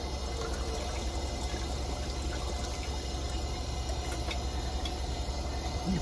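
Water pours steadily into a coffee percolator basket to wet it, a soft continuous trickle at low level with faint background hiss and no talking.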